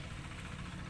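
Vehicle engines run steadily near the ruins of an abandoned sugar factory in Mindoro, a continuous low rumble filling the whole second with no voices.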